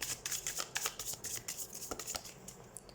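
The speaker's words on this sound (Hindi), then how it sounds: "हम कार्ड शफल कर" Tarot cards being shuffled up close, a quick run of crisp riffling snaps and papery rustles in uneven bursts, with no talking.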